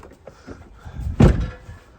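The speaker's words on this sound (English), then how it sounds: "can hear the rattle just shutting the door on the exhaust" A single Nissan Xterra door thuds shut up close, followed by a brief metallic rattle from the exhaust, with a few faint knocks before it.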